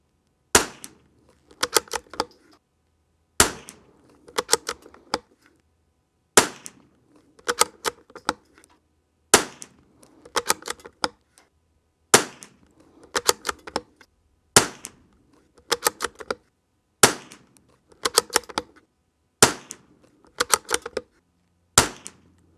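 Lithgow LA101 rimfire rifle firing CCI standard velocity rounds, a run of sharp, dry cracks in small clusters of two to four shots spaced by short pauses, each crack close, loud and abrupt with a brief tail, no talking.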